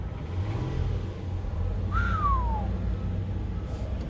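A 2002 Lexus GS300 engine idles with a steady low rumble that fills the whole stretch, while a brief rising-then-falling whistle cuts through the middle.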